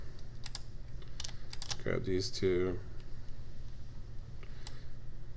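Mouse and keyboard clicks sound while vertices are picked in Maya, modelling a hand mesh. A cluster of sharp, close, dry clicks is scattered through the stretch, and someone speaks briefly in the middle.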